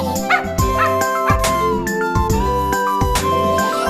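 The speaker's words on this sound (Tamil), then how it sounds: "லொள் லொள் சத்தம் போட்டு துரத்தி விடுவேன் நான்." Small dog yips and barks repeatedly in quick bursts, close by, with a tonal background running underneath.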